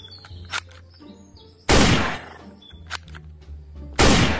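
A toy shotgun fires two loud, harsh electronic blasts about two seconds apart, with thin chirping electronic beeps and clicks between them.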